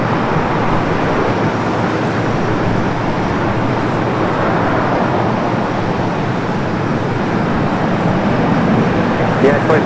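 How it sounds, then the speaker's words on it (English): A OneWorld Boeing 787 Dreamliner arriving at LAX from Tokyo Narita, heard as a steady, loud broadband jet roar that holds evenly throughout, with airport radio chatter faintly present. "We do have One World Dreamliner arriving from Tokyo Narita."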